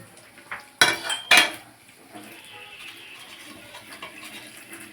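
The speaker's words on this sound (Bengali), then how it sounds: "সব মশলাগুলো আমি একসাথেই দিয়ে দিলাম দিয়ে ভালো করে কষিয়ে নেব" Spices stir-fried with chicken in a pan, opening with two sharp metallic clanks of a utensil against the pan, followed by a quieter continuous sizzle with faint scraping.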